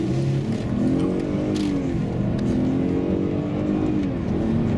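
A Mercedes-Benz ML350 3.5 V6 running on gas hums steadily from inside the cabin, its pitch rising and falling as it accelerates through gears, continuous and fairly loud.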